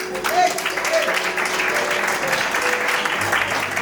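Congregation at a church birthday celebration applauding, a dense sustained clapping that fills the room for several seconds while a voice carries faintly over it.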